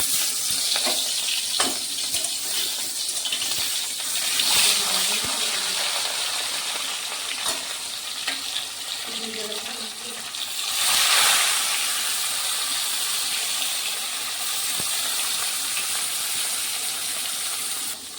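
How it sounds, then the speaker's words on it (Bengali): Fish fry in hot oil in a heated kadai with a loud, steady, hissing sizzle that holds evenly throughout and swells briefly now and then, with no talking over it. "এখন মাছগুলো একে একে ভেজে নেব।"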